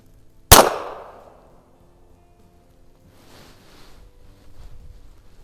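A single sharp shot from a 1932 High Standard Model B .22 LR target pistol loaded with CCI standard velocity ammunition at an outdoor range, close and loud, followed by a brief decay and quiet wind.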